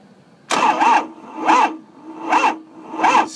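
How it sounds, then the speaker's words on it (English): A Ford 6.0 diesel engine cranks without catching, its starter producing four evenly spaced, loud, rhythmic grinding pulses up close with no firing. "So here I'm going to try to crank it again."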